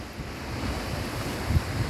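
Ocean waves wash along a Sri Lankan shoreline with rock breakwaters, a soft continuous surf rumble mixed with wind buffeting the microphone and one slightly louder surge near the end.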